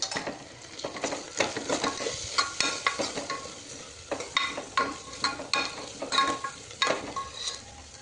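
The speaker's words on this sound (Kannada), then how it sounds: "ಸ್ವಲ್ಪ ಫ್ರೈ ಮಾಡಬೇಕು." Tomato bath with coriander leaves and turmeric being stir-fried, close and lively: repeated spatula scrapes and stirring knocks over a bubbling sizzle, in irregular bursts with no talking.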